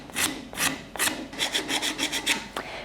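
Hand sanding of a wooden shoe last's toe: a series of quick rasping rubs, a few slower strokes followed by a faster run of short scrapes, close and fairly quiet with no talking.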